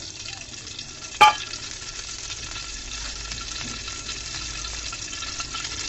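Dried red chilies fry in hot oil, giving a steady close sizzle that runs throughout after a single sharp clink near the start.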